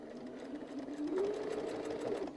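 Sewing machine running steadily while stitching a quilt, a continuous close mechanical whir that rises slightly in loudness partway through, with no talking.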